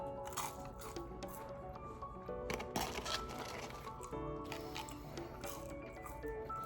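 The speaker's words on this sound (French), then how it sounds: "On va goûter les frites." Crunchy, well-salted McDonald's French fries are bitten and chewed close up, a string of moist crunches and squishy bites.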